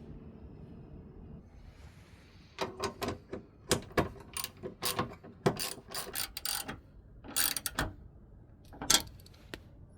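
Socket ratchet with a 10mm socket tightening fender bolts on a 2013 Chrysler 200, crisp irregular clicking strokes in short runs, close up, with faint handling noise between.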